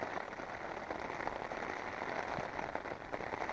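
Steady rain patters on a tent fabric during a cold February camp on a fell, a dense, even drumming close overhead, fairly soft and continuous with no voices.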